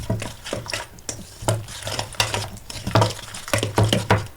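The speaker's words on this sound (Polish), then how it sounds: "Wszystko dokładnie mieszam" Irregular scraping and tapping pulses as a spoon stirs a yeast starter of sugar, milk and flour in a bowl, close and fairly clear, with a steady low hum beneath.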